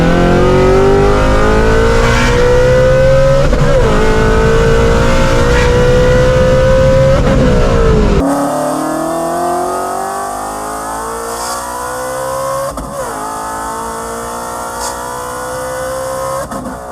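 A supercharged Shelby GT350 with an ESS G3R kit roars hard in third gear on a 60-130 pull, its engine pitch climbing steadily, then a gear change drops the note before it climbs again with a supercharger whine on top.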